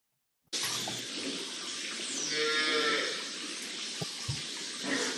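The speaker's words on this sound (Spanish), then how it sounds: "un montón de vacas que estaban afectadas" A herd of sick cattle affected by collective paresis or paralysis moos, with a drawn-out lowing call standing out over a steady, hissing wash of background noise.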